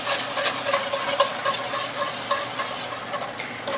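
Fettuccine shrimp alfredo sauce being stirred in a pan, a steady close scraping and swishing with light sizzle running throughout, no voices.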